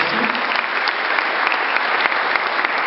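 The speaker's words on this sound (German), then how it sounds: "auch noch einmal einen Applaus" Sustained applause fills the room at an award ceremony for a school competition, a thick, even wash of many clapping hands with no break.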